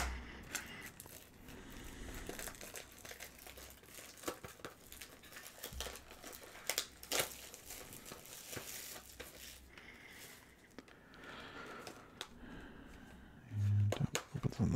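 Plastic packaging on a Tarokka card deck is crinkled and torn open at close range in scattered crackles and small tearing bursts, with faint background noise and no clear talk.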